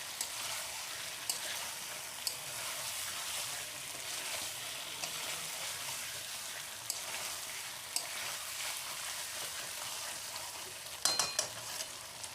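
Chicken fries in a pan for kosha with a continuous broad sizzle, broken by occasional sharp scrapes and clinks as it is stirred, ending in a brief burst of clatter.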